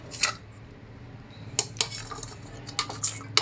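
Ingredients such as garlic and coriander dropping into a steel mixer jar, giving a few sharp clinks and clatters spaced apart over a low hum, close and fairly quiet.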